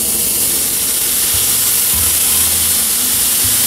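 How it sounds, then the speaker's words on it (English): Steady loud hiss of white wine hitting a hot pan with diced shallots, a continuous close sizzle filling the whole stretch with a few low clunks beneath; no talk. "At this point, I'm adding 2 ounces of white wine,"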